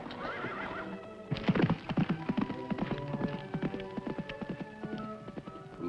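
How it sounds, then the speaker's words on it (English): A horse gallops toward a barn in an old television western, rapid clip-clop hoofbeats that grow louder and closer, with a whinny just before them and no speech. "From the sound of those hoofbeats"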